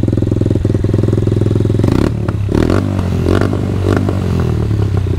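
A cold KRY 150 motorcycle with an Akrapovic exhaust idles loud and close, a steady even putter that wavers briefly around the middle before settling back into a slightly clattery idle.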